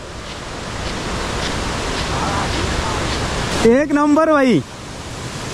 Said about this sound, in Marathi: या परतीच्या पावसामध्ये सवतसडा धबधबा एक नंबर